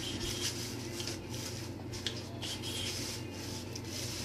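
Quiet, repeated scraping strokes come close up as a peeler rubs along the skin of a cucumber, a soft rasping rhythm with small irregular clicks.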